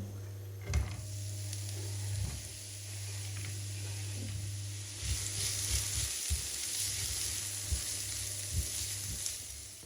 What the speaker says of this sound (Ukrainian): Одразу відправляємо її смажитись на середньому вогні.